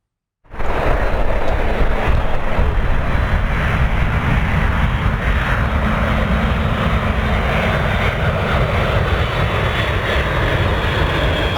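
Lockheed Martin C-130J Super Hercules military transport aircraft, a loud, steady engine roar that starts abruptly and holds at full strength throughout, close and continuous with no speech.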